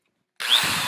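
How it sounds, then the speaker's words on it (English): After a moment of silence an electric drill whirs up abruptly once its plug has been replaced, then keeps running at a steady, close, fairly loud motor whine. "I can drill to my heart's content"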